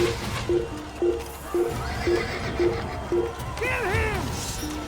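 A horse in Assassin's Creed gives a whinnying neigh near the end, after a run of regular clip-clop hoofbeats, all fairly quiet against a low ambient background.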